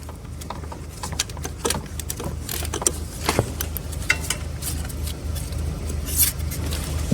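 Metallic clicks, scrapes and faint ratcheting as the starter bolt is undone on a Chevrolet Cruze engine during engine removal, a steady run of small close tool sounds over a low background hum.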